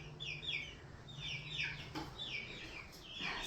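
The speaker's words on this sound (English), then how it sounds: "I've got the chickens up here." Chickens cluck and chirp in short repeated bursts, fairly close, over a low steady hum, with no talking.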